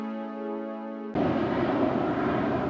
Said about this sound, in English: Got a plane flying overhead.